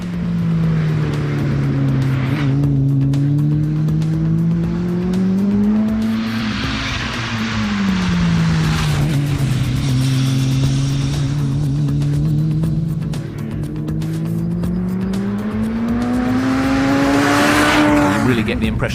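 Turbocharged Mini race car rated at 400 brake horsepower, its engine revving flat out with loud, continuous tone rising and falling through gear changes, close and sustained throughout.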